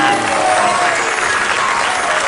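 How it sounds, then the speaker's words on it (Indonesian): A studio audience at a comedy show breaks into dense, continuous applause, loud and close, with many hands clapping at once and no pauses. "Tepuk tangan."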